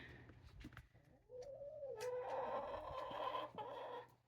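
Faint, low clucking and cooing from nearby chickens, a drawn-out warbling call rising above a quiet winter background.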